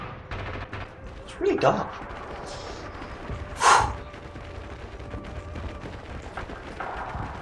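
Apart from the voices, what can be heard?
machine gun fire in Red Orchestra 2 video game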